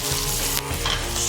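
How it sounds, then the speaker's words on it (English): A skin-on fish fillet fries skin side down in a pan with garlic, thyme and a knob of butter, giving a loud, steady close sizzle with a few stirring scrapes. "Skin side down, into the pan. Garlic. Thyme. Knob of butter,"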